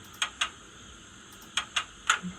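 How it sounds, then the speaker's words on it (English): Sharp mechanical clicks and clunks, five or six of them in uneven pairs, crisp and close, then a soft low thump; no talking. A reverser sound effect from a Bachmann G5 class 4-4-0T OO gauge model locomotive with DCC sound. "There's a reverser noise. Now I can trigger that manually,"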